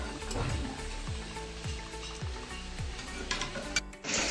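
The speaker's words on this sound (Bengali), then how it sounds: "এখানে বেগুনি ভাজা হচ্ছে।" Battered eggplant fritters (beguni) frying in hot oil, a steady sizzle with periodic low stirring or scraping sounds, fairly close, with no talk.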